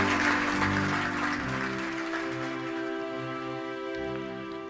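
An audience claps in a dense burst that starts strong and slowly thins, with a tonal musical hum sustained underneath.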